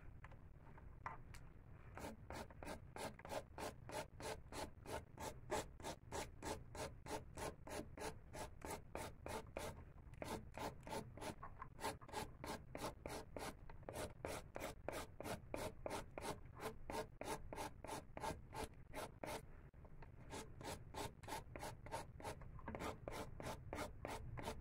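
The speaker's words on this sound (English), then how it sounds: "You can use any type of nail file, just whichever one you're comfortable with." A nail file rubs back and forth across a fingernail in acrylic nail prep, a close, soft, steady scratchy rasp with evenly spaced strokes throughout and no talk.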